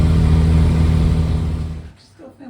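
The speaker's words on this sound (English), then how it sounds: "that did not stop the horrendous noise for long" A van engine with a broken exhaust roars and rattles loudly and roughly close by, then fades out into quieter sounds at the end.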